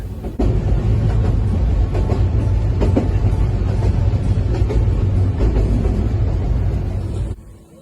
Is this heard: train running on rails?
yes